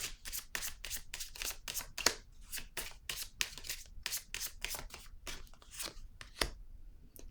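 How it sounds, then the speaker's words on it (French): Tarot-style cards are handled, laid out and shuffled during a card reading: a rapid run of crisp papery flicks and slaps, close and fairly quiet, with no talking. "Attendez, je vais déposer une autre carte pour avoir des détails ici."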